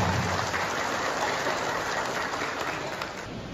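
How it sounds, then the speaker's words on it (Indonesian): Loud, sustained applause from a crowd at the inauguration of the PMPB board in Palembang, a dense, steady roar of clapping that fades slightly toward the end. "Sekali lagi kita beri tepuk tangan yang meriah"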